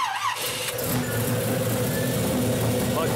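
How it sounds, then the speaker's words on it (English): A car engine cranks and catches after repair work, then settles into a steady, loud idle that runs continuously to the end. "I guess we're ready to fire this thing up and see what it sounds like"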